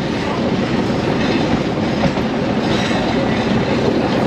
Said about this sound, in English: we did stop for 3 trains that were passing